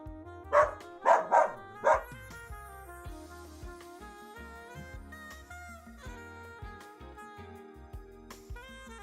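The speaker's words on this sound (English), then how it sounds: "various like barking sounds for the dog redeem" A dog barking sound effect triggered on a livestream gives four quick, loud barks in a burst, followed by quieter background music.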